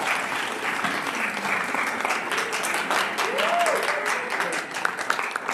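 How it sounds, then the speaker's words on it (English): Steady applause from an audience at a family engagement keynote in South Carolina, dense and continuous throughout, with a brief voice rising faintly underneath midway. "give yourself a round of applause"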